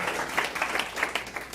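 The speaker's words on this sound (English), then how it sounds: "Everyone give her a round of applause." Audience applause at a real estate seminar, a steady patter of many hands clapping across the room, moderately loud and continuous with no speech over it.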